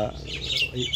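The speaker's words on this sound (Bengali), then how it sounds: "দেখার পরে উনি কিচির মিচির করে ওই পাখিগুলাকে ডাকবে।" Birds chirping in short, bright tweets, fairly close, with a faint low murmur underneath.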